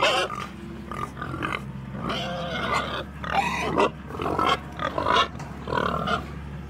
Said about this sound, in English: Feeder pigs. Oh, here comes all the babies.